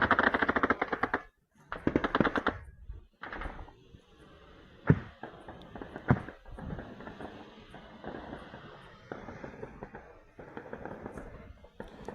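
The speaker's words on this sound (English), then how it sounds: "notice it's heavy machine guns, no proximity fuse shells" Bursts of rapid heavy machine-gun fire crackle in the distance across a river at Izmail, Ukraine, interrupted by sharper single bangs and pauses, with a rumbling background throughout.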